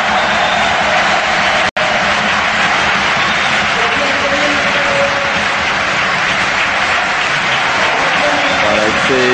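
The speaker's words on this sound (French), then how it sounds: "s'attend encore à une superbe ovation pour Marcello qui va quitter l'Olympique Lyonnais" Stadium crowd at Gerland in Lyon applauding a departing Olympique Lyonnais footballer during a 1996-97 Division 1 match against Marseille, a dense, sustained ovation with a broadcast commentator talking over it.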